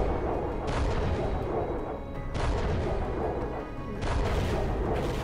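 Missiles launching in the space combat game Fall of Kobol, a steady roar of repeated heavy booms and blasts that swell in three surges, loud and dense with no pauses.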